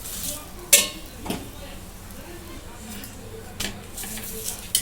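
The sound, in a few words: flipping dhapate flatbread while roasting it on a pan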